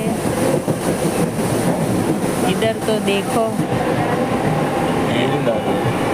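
Mumbai local train rumble and rattling clatter fill the whole stretch, heard from inside a carriage, with people talking nearby over the steady noise.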